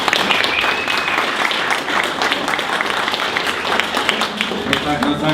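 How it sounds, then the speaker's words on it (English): Audience applause after a talk on designing presentations, loud continuous clapping throughout, with a voice speaking over it. "let's give Tom a round of applause"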